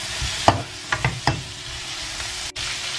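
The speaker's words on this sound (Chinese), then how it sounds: "把胡萝卜和青椒我们给它翻炒个5、6、7、8下" Carrots and green peppers are stir-fried in a wok, a low sizzle broken by three or four quick scraping tosses of the spatula close up, then a steadier frying hiss.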